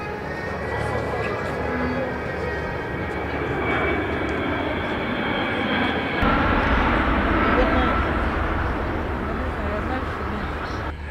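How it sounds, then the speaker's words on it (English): The Antonov Mriya, the world's largest airplane, flying during Ukraine's Independence Day: a loud, steady engine drone that swells and shifts partway through, with voices talking over it. "And that was the Antonov Maria, the largest airplane in the world."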